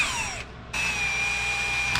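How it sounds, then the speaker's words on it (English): A 7/64 drill bit bores holes through steel for dump truck lights, a steady high whining drill tone running nearly throughout with a brief pause early on, close and fairly loud. "I'm going to drill all 3 of these holes with my 7/64"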